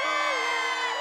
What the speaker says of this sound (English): The Bertaloo will never come back if the crowd is this loud.